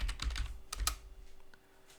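Quick typing of a terminal command on a computer keyboard, a cluster of crisp clicking keystrokes that thins out and fades after a little over a second.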